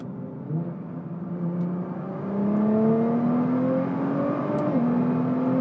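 A 2016 Nissan GTR engine revving while driven, a smooth rising whine that climbs through gears with a brief shift dip, heard from inside the car with no talk.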